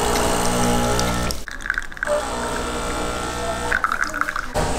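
A De'Longhi coffee machine brews inside a camper van, giving a steady pumping whir and watery gurgle that cuts out briefly twice. Voices can be heard faintly.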